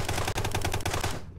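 Rapid automatic gunfire in the vehicle-building game Brick Rigs during a PvP battle, a loud close burst of evenly spaced shots lasting just over a second, heard alone.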